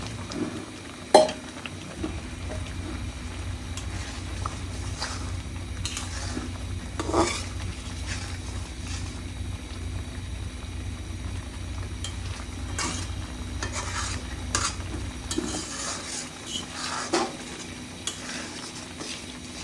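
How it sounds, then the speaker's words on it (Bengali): Fried prawns stirred into a simmering milk curry in a pot, with soft steady bubbling and scraping of a spoon, scattered clinks against the pan, heard close and fairly quiet. "এখন আমি মাছ ভাজাগুলো ছেড়ে দিচ্ছি।"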